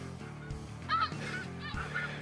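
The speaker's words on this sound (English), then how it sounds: "we probably just had, I'm going to guess, 300 or 400 birds above us." A large flock of snow geese honks overhead during an Ontario goose hunt, many overlapping calls forming a steady, dense chorus with a few louder honks standing out near the listener.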